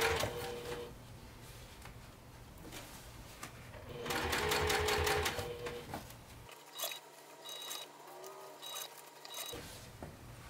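A sewing machine runs close up, stitching binding onto a quilted project, its rapid needle chatter pausing and restarting in short bursts with no talk over it.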